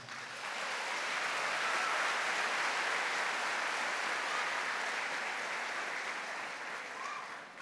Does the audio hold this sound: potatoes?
no